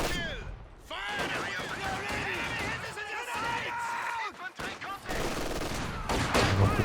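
Machine gun bursts and rifle grenade blasts crackle in a Company of Heroes 2 match, with LMG Grenadiers firing amid rapid repeated shots and impacts, played under a caster talking steadily.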